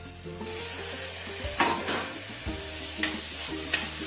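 Tomatoes and green chilies frying in a pan after ginger and garlic have cooked, a steady close sizzle broken by several scraping stirs of a spoon against the pan, with no talking.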